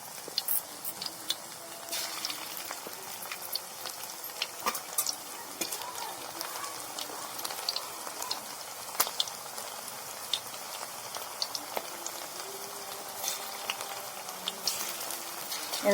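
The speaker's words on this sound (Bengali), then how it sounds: "এরকম ভাবে আগে আমি পকোড়াগুলো ভেজে নেব।" Pakoras deep-frying in oil in a kadai, a low, constant bubbling crackle dotted with faint pops and ticks throughout, quiet and close.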